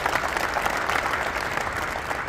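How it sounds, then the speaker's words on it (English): An audience at a university football coach press conference keeps up warm, continuous applause, a moderately loud, even wash of clapping with no speech over it. "Give us another warm round of applause."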